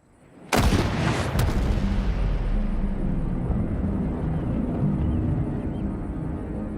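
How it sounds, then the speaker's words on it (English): A single sharp, loud crack of a modern rifle firing outdoors, followed by a long, rolling echo that slowly fades. "Joel demonstrates this with the modern rifle."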